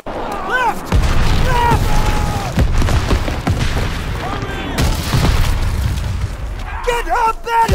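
A grenade detonates in the World War II shooter Call of Duty WWII, giving a loud, heavy boom that rings on amid continuous battlefield noise. Scattered gunfire cracks around it, and soldiers shout underneath.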